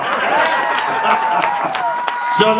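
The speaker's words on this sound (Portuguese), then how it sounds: "un aplauso grande con gran patriota." A crowd applauding and cheering continuously, dense clapping with scattered whoops, fairly loud and close.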